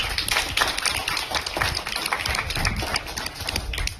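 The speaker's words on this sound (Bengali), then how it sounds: "একটা জোরে হাততালি হয়ে যাক।" Audience clapping at a film premiere event, with a brisk patter of hands in close, uneven bursts that carry on at moderate loudness without fading.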